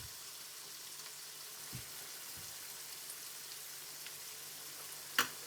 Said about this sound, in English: so that's sizzling away nicely